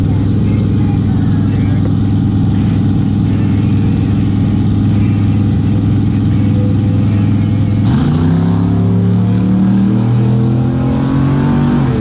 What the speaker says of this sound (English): And the truck takes off.